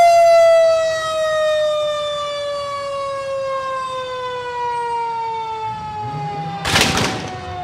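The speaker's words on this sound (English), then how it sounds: "I can attest the horn's working fine." Fire department truck siren wailing loudly in a street parade, a long steady tone that slowly falls in pitch, then a sharp blast from the truck's horn bursts out near the end.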